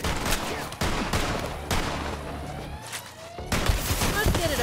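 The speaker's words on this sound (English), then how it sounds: "there's like no recoil on this gun." Rapid gunfire from a low-recoil gun in the video game Borderlands 3, bursts of shots crackling loud and close with brief pauses between volleys, game music and effects underneath.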